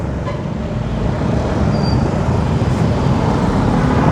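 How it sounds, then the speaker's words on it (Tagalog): Dense rush-hour traffic on the Alabang–Zapote Road in the Philippines: a loud, steady, close roar of many cars, buses and trucks that swells slightly and never lets up, with no voices. "Pakaraming sasakyan dito."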